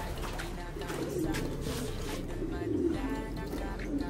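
Pet pigeons near their coop at dusk, cooing softly and repeatedly in low, rolling calls, close by, with a person talking over them.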